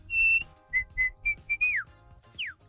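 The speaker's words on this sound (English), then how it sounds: "I was doing a gentle little whistle." A person whistles gently in short, separate notes, a long held tone, then several brief chirps and a couple of falling glides, close and soft with low background rumble.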